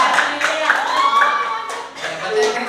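Students clap their hands in a classroom, with rhythmic, close claps and a teacher's voice speaking over them.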